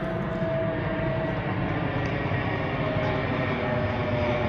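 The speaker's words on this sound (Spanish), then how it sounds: "Mira, aquí viene otro avión." A fixed-wing airplane drones steadily overhead at night in Montreal, Canada, a broad continuous roar holding even loudness throughout with no talk over it.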